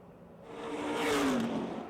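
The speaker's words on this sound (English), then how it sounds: "Toyota Camry pace car is off the speedway, and Tom Beck is back on the loud pedal" Race cars accelerating down the front straight of Motordrome Speedway after a caution period, a swelling engine roar that rises to a peak near the middle with a gliding pitch sweep, then eases slightly, no talk.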